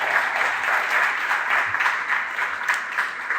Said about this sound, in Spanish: les pido también un aplauso al ingeniero Humberto Reyes